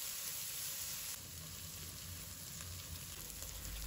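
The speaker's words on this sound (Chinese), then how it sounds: "把杏鲍菇加进来，快速的给它翻炒，把杏鲍菇给它炒熟炒香" King oyster mushrooms and garlic stir-fry in a hot wok, giving a steady close sizzle with a bright hiss and faint scraping of stirring throughout, no speech.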